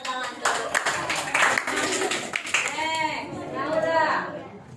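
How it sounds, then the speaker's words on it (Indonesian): Classroom pupils clap their hands together in a burst of close, uneven applause, mixed with children's voices and chatter. "Tepuk tangan."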